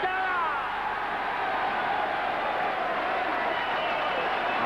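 Arena crowd applauds darts champion Keith Deller at the 1983 Embassy world final, a dense, steady wash of clapping that holds at full level throughout, with a voice talking over it.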